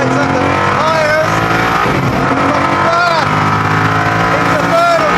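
Koenigsegg Agera R launches hard in first gear with traction control off, its engine roaring and rising in pitch through repeated revs with tire noise, loud and close from start to finish.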